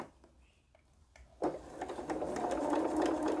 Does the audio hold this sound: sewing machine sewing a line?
yes